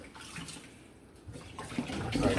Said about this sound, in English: you could just wash them off for a little bit